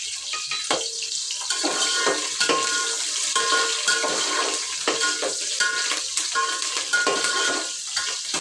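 A spoon stirs mutton curry in a frying pan, scraping and clinking against the metal over a steady oil sizzle, with repeated close stirring strokes and no talking.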